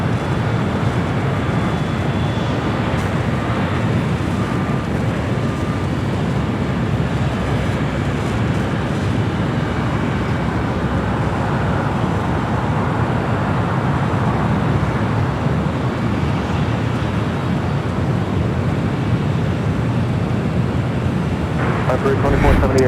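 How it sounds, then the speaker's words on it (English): A 17-year-old Boeing 767-300ER airliner touches down on runway 25 Left at Los Angeles International Airport, heard from a distance as a steady, broad roar of engine and rollout noise that holds level throughout, with a voice talking over it. "17-year-old 767-300 ER, flight 2478, touching down here on the south side at 25 left."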